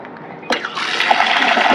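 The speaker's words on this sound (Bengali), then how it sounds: "বেশি করে ধুতে হবে বলে আমি সিঙ্কের কাছে নিয়ে এসেছি, চালকে একটু ভালো করে সুন্দর করে ধোবো।" Running water at a kitchen sink where rice is being rinsed, beginning with a sharp splash and then a steady, loud rushing gush, close by.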